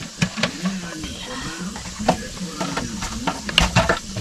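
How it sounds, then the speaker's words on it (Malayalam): Sharp crackles and pops from mustard seeds in hot oil for chicken curry burst irregularly over a steady sizzle, with a voice speaking underneath. "തിളച്ച എണ്ണയിലേക്ക് കുറച്ച് കടുക് ഇട്ട് കൊടുക്കുകയാണ് കടുക് പൊട്ടിക്കൊണ്ടിരിക്കുകയാണ്"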